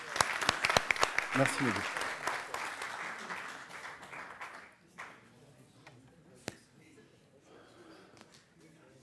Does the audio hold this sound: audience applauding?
yes